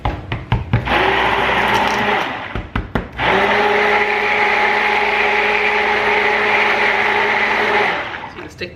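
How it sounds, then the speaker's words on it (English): A stick blender whirs steadily while mixing cold process soap batter, running in two long loud bursts separated by a short pause, with clicks and bumps before and between. "Stick blender blends it way better."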